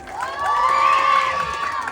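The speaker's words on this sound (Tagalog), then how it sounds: "maaari po ba akong manlimos ng palakpakan at hiyawan?" Crowd at a Miss Gay pageant in Tayuman cheering and whooping, a sustained roar of shouts and applause that swells and holds for a couple of seconds, loud and close.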